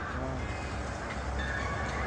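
Steady low rumble of a metro train running in Almaty, continuous and fairly loud, with a faint high whine over the constant roar.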